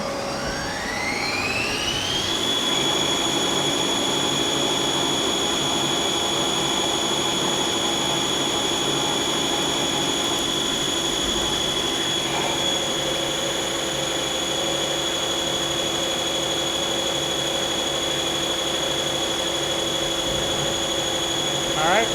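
Boring bar roughing a part on a Mazak T-2/T-3 CNC lathe, a strong rising spindle whine that settles into a sustained high tone over dense machine noise, with a slight change midway and steady cutting throughout.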